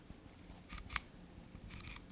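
A lens aperture ring on a Light Lens Lab lens is turned, giving a few faint, crisp mechanical clicks spaced through a quiet couple of seconds.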